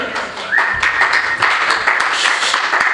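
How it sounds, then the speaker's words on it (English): An audience applauds at a gaming and esports market masterclass, a brief, moderate patter of many hands clapping that rises after a short pause and holds steady. "Yes, you can applaud also."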